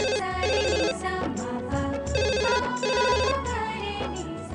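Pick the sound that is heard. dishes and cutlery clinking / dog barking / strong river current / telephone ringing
telephone ringing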